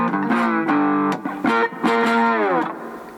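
A fretless three-string cigar box guitar played with a slide, giving a short electric lick of sustained, gliding notes with distortion, several plucked phrases bending in pitch.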